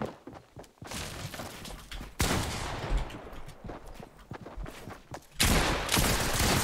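Enemy players open fire in a Fortnite match. Bursts of rapid gunshots hit in loud, clustered waves, mixed with impacts and scattered footsteps, and the intensity surges near the start, middle and end.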